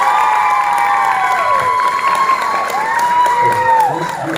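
An audience at a presentation claps and cheers loudly, with whoops and shouting voices rising over the applause.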